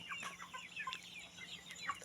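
Rhode Island Red chickens clucking in short, scattered calls over steady farmyard background noise, fairly quiet and close by.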